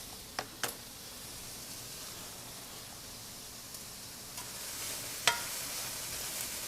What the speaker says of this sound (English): getting a good cook on the onions already here in the vacuum frying pan